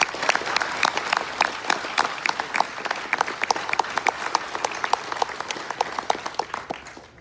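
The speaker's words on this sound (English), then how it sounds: "I ask that we recognize them by giving them a big round of applause." A big round of applause at a military appreciation gathering aboard the Carnival Vista cruise ship, with dense crowd clapping and sharp individual claps standing out, holding steady before tapering off at the end.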